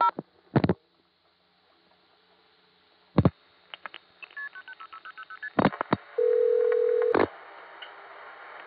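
Telephone touch-tone keypad tones dialing a long-distance number to reach a Warwick, New York trunk: separate clicks and short tone bursts, then a fast run of stepped DTMF digits and a long steady tone, with no talk.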